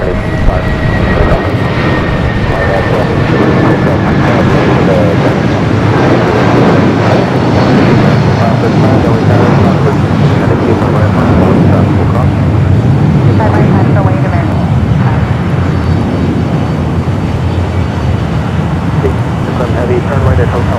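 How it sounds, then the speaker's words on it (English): An American Boeing Dreamliner at Los Angeles airport starts its takeoff roll on runway 25 right, a loud, steady engine roar that holds throughout with a faint rising whine near the start. "Got that American Dreamliner now starting its roll down to 25 right"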